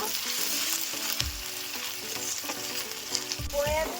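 Ginger and garlic paste frying in a pan for chicken rezala, a steady close sizzle with a few stirring scrapes and utensil knocks running through the whole stretch, no voices.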